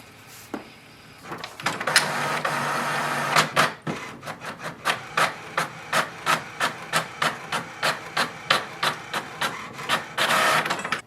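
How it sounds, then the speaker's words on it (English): An HP Envy 6455e inkjet printer whirs and feeds paper, then its print head shuttles back and forth in a steady run of rapid rhythmic passes, close and fairly loud. "Wait for the printer to print a page."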